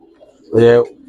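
A Giribaz high-flyer pigeon gives a single loud, close coo lasting under half a second, with faint low background murmur before and after.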